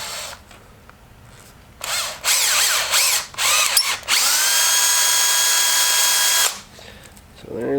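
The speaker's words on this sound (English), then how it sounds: "We're going to just drill a hole on each end" A power drill whirs up in short bursts, then bores steadily through wood for a few seconds before winding down, loud and close in a quiet room.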